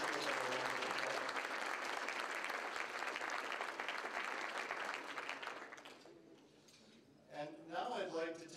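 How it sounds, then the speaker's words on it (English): Dense audience applause fills a room at an anniversary dean's event, loud and sustained for about six seconds before thinning out, after which a voice begins speaking. "could you please give them a round of applause?"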